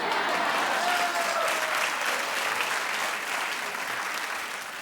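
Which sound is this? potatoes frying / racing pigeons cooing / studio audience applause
studio audience applause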